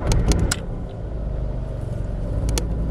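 A car with a faulty camshaft position sensor and check engine light cranks and starts roughly, with a few sharp clicks at the start and end over a loud, uneven engine rumble.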